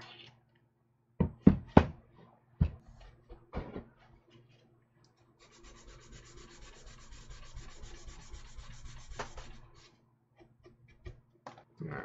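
Rasping strokes of a bastard file working a plastic model kit part, a steady rubbing stretch in the middle with scattered knocks and handling clatter before and after, close and moderately loud.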